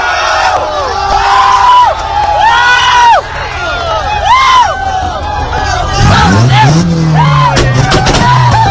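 A crowd cheers and shouts loudly as a police officer rouses them, with excited voices rising and falling in waves throughout and bursts of whooping calls.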